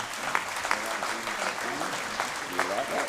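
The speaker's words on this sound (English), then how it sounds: "If we can please give them a round of applause." Steady audience applause fills the room at a school academic awards ceremony, with some voices speaking over it throughout.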